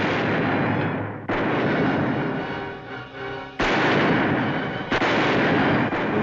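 Bushwhackers open fire during an ambush in the western TV episode Cheyenne: heavy, booming gunshot blasts hit with sudden onsets and ring out loudly, one after another, over about six seconds, with no speech heard.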